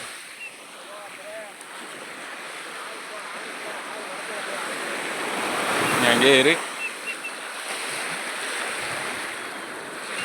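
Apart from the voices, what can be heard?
sea waves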